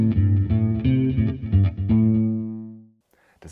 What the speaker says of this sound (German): oder der British Amp mit Chorus und Delay